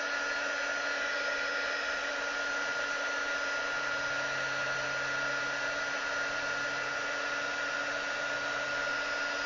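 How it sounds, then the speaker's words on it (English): A heat gun blows a steady, even whir over embossing powder on sticky ink for the whole stretch, close and constant, with no voices. "I'm going to get on and heat emboss it before the ink dries and the powder blows off."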